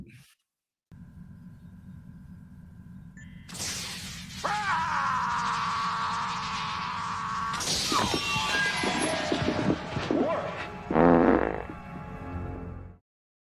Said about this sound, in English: The timing on the fart was perfect, by the way.